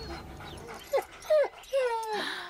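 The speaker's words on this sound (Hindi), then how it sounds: "इसके पीछे कुत्ते छोड़ो।" Several dogs bark and yelp in a short burst of three sharp calls, fairly close, over a background murmur of voices.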